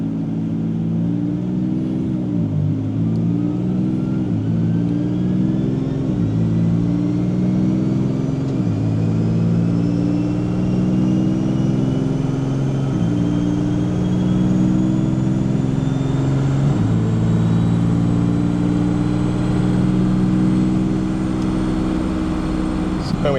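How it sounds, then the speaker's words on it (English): A Toyota Supra fitted with a swapped-in ZF 8-speed automatic gearbox accelerates from second gear in automatic mode, its loud, close engine drone climbing in pitch and dropping at each of several gear changes. "So we'll start it in automatic mode, showing you changing through the gears."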